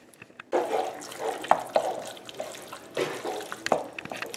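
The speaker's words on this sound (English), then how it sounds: "Next, I'm going to add a can of light red kidney beans." Drained canned light red kidney beans tipped into a pot of taco soup, a wet sloppy splatter of beans and liquid with a few soft plops, close and alone after a brief quiet start.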